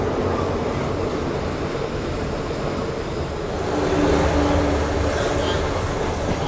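A train rumbles past at a railway crossing on the Thailand–Burma Death Railway, a loud continuous roar and rattle of wagons close by, swelling slightly midway.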